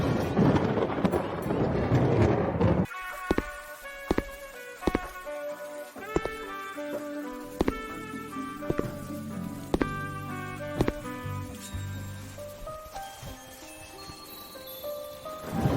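Steady heavy rain pours down with deep thunder rumbling through the first few seconds, then gives way to lighter, scattered dripping and sharp drop impacts.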